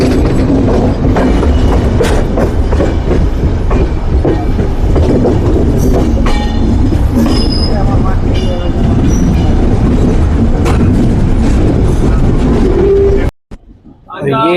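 A train rolls steadily over rails with loud rhythmic clatter and clanks as the wheels cross a railway diamond crossing, occasional squeals, ending abruptly. Howrah–Mumbai Mail on Indian Railways.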